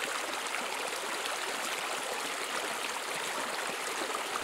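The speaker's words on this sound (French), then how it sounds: "Le courant était rapide et le voilier en papier filait sur l'eau." A stream of water flows steadily and swiftly in a continuous even rush, carrying a small paper sailboat along its current with no voices.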